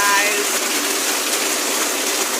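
Heavy rain falling outside on a Saturday, a steady dense hiss of downpour that stays loud and even from start to finish, with no voice over it.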